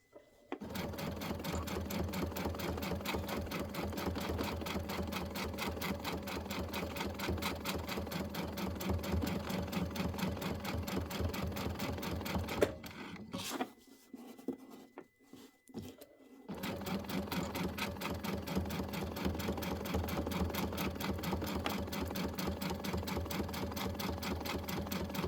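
A sewing machine stitches through quilt layers in a fast, steady whir that runs almost continuously, broken once by a brief pause before the stitching resumes close by.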